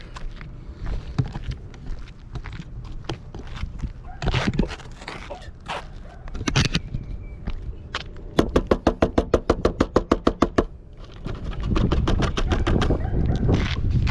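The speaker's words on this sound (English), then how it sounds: "That's why I kept slapping the side." Repeated hand slaps against the metal side of a dryer vent during lint cleaning, sharp bangs in irregular bursts and then a fast rhythmic run of knocks, with scraping rustle between.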